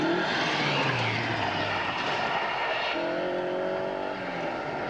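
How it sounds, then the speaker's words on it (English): Rally cars race on a 1991 West Cork Rally stage, engines droning and revving at mid-distance with shifting pitch as they pass, fairly faint against outdoor background noise. "Specialist rally machines like Graham Cole's T9 Darien were looking forward to battling against the similarly mounted car of John Stangl."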